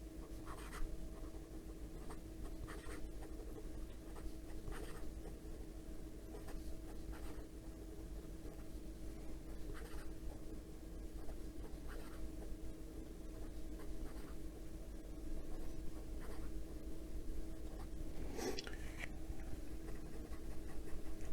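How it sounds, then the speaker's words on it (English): Penbbs 323 fountain pen moving quickly across paper, faint scratchy strokes ticking in irregular bursts over a quiet background hum, close but very soft, with one sharper scrape near the end and no talk. "And some quick writing."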